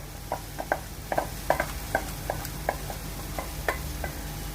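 Steady oil sizzle with scattered sharp crackles and pops as marinated meat fries in a hot pan, close by, no voices.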